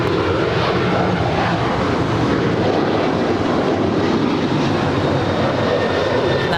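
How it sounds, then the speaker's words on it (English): Alaska Airlines Boeing 737-800, eleven years old, taking off from runway 25 right at Los Angeles International Airport, a loud steady jet engine roar that fills the whole stretch without letting up. "That is Alaska 813 off to Kahului, Maui. An 11-year-old 737-800."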